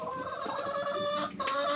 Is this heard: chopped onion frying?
no